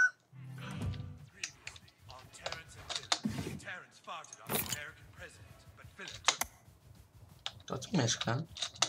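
A chicken clucks in the video game South Park: The Stick of Truth, short clipped sounds scattered among clicks and game noises, with someone talking over much of it.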